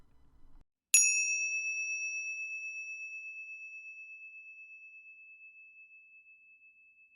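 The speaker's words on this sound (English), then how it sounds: "Having heard the gong" A single meditation gong is struck once after a moment of quiet, ringing out with a clear bright tone that slowly decays over several seconds with a gentle pulsing shimmer.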